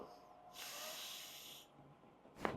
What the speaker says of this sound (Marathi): घ्या श्वास, सोडा